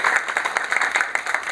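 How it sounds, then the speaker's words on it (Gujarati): An audience at a health awareness session on addiction recovery claps, a dense burst of applause from a room full of people, steady and close throughout. "આજ બંને મહાનુભાવો માટે એક વખત જોરદાર તાળી થઈ જાય."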